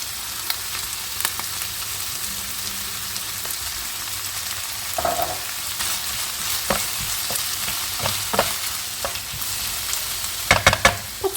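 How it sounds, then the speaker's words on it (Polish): Onion and mushrooms sizzle steadily in a frying pan, with occasional scrapes and clicks of stirring and a few sharper crackles near the end, close and moderately loud with no talking. "Zobaczcie, już podsmażyłam cebulkę razem z grzybami."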